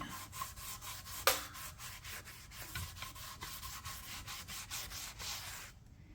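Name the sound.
wiping down the body of an antique kerosene can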